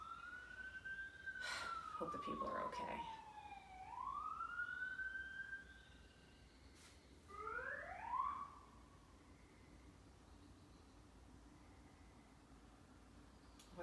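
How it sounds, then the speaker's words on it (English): A siren wails across a rural area, rising and falling in long sweeping tones before a second warbling burst, distant to moderately loud, with a voice speaking briefly over it. "of course there's an ambulance."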